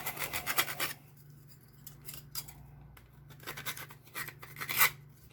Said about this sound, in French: Petit coup de lime.